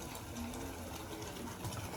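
A mixer grinder spins its blades with water inside the jar, rinsing out leftover masala in a home kitchen; a steady, close whirring churn with a sloshing, pump-like wash runs continuously.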